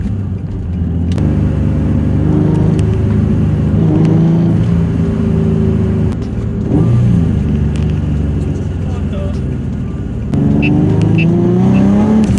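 A Nissan 350Z with GK Tech poly engine mounts cruising, its engine giving a steady loud low hum and drone inside the cabin, rising and falling slightly with the throttle throughout.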